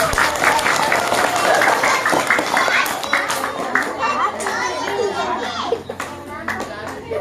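Children at an elementary school clap together during a religious talk, a loud crowd of hands mixed with children's chatter and voices, tapering off toward the end.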